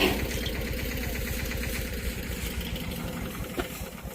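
A small tractor engine chugs steadily at idle, a low rhythmic putter with no voices over it.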